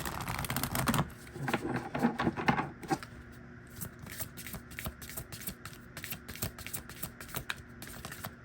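A deck of tarot cards is shuffled close by, with a soft riffling burst at first, then a string of light, irregular card clicks and taps in a quiet room.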